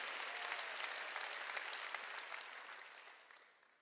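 A church congregation applauding during a sermon: steady crowd clapping, bright and evenly sustained, then tapering off softly toward the close.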